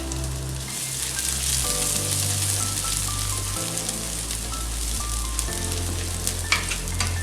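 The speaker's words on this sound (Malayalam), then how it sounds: "ഇഞ്ചി ഒന്ന് മൂത്ത് വരുമ്പോഴത്തേക്ക് നമുക്ക് വെളുത്തുള്ളി ഇട്ട് കൊടുക്കാം." Garlic dropped into ginger already frying in hot oil, a steady loud sizzle and crackle that runs unbroken the whole time, close up, with no voices.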